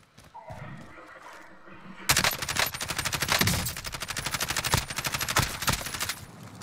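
Rapid video game gunfire breaks out in dense, fast machine-gun bursts after a quieter start, with players talking over the action.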